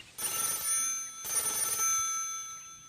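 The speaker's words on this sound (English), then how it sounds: "There's a phone call to the office of Dr. John Drieden, an Auckland physician." An old-style telephone bell in a physician's office in 1935 Auckland rings in two clear, insistent bursts with a brief gap between them and no voices.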